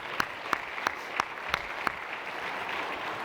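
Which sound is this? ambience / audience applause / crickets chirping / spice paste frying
audience applause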